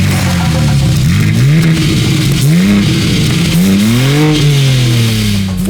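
A BMW M3 CS with a twin-turbo S58 straight-six revs and accelerates loudly, its engine pitch climbing and dropping through several repeated sweeps, close and continuous.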